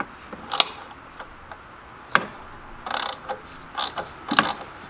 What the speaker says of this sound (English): I'm just gonna throw a ratcheting wrench on it.